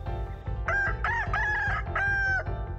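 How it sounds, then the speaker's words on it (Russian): A rooster crows loudly and close, one full cock-a-doodle-doo call with a rising and falling pattern. "то самое кукареку должно звучать мощно, раскатисто, в общем, убедительно"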